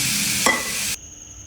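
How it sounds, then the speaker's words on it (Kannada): Beans in a pan with ground masala, stirred and fried over a low flame, giving a steady close hiss with a scraping stir that cuts off abruptly partway through, leaving a faint quiet hum. "ಲೋ ಫ್ಲೇಮಲ್ಲಿ ಇದನ್ನ ಫ್ರೈ ಮಾಡ್ಕೊಳ್ಳಿ"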